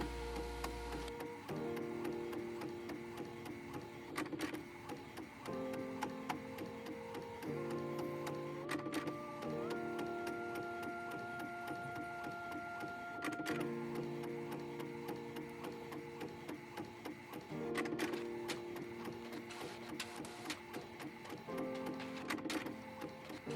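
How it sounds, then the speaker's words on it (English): An art printer runs continuously, printing a drawing onto paper: steady mechanical whirring with shifting motor tones and periodic clicks as the head travels and the sheet feeds, close and alone with no talk. "Let's get printing."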